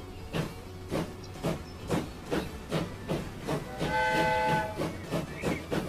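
A train pulling away in Transport Fever, with rhythmic chuffing pulses at a steady pace and a brief whistle-like tonal blast partway through. No talking.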